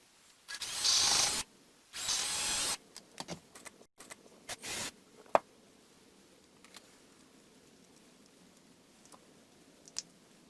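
A power drill bores into a soft brass carburetor part in two loud, sustained bursts, followed by scattered clicks and light handling knocks of the tool and workpiece, with no talking.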